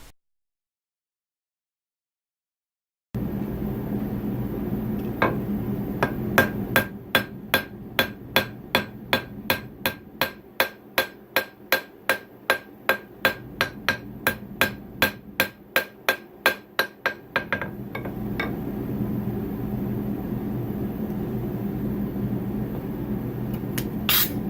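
A long run of sharp, ringing hammer blows strikes hot steel on an anvil, knocking off scale while forging an axe, in a steady rhythm, loud and close, over a constant background roar.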